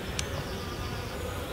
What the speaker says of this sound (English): the bees are in there, a couple of them in there drinking away